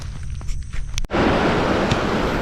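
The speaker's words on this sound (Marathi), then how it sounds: "इकडच्या साईडचा बंधारा फुटला आहे हा बघा आता पाणी चाललं आहे" Water rushes through a breached earthen embankment after heavy overnight flow, a steady loud gushing roar that starts abruptly after a short noisy outdoor stretch.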